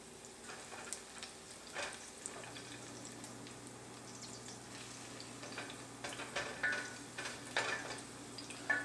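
Garlic with crushed red pepper flakes frying in a pan, a faint steady sizzle with small ticks and pops and a low hum underneath, quiet and close.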